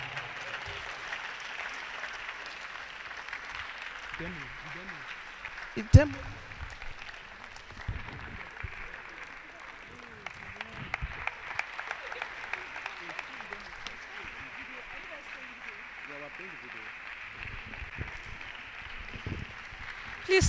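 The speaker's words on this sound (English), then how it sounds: "Please keep clapping until she gets to the stage." Ongoing audience applause at a Microsoft Learn gathering in Akure, a moderate, continuous patter of clapping with scattered louder claps and a sharp bang near the middle, mixed with faint crowd murmur and some talk over it.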